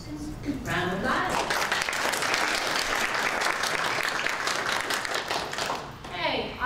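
An audience at the Kennesaw State University Statistics Showcase applauds a presenting group, with loud, dense clapping filling most of the stretch before it tapers off and a voice begins at the end.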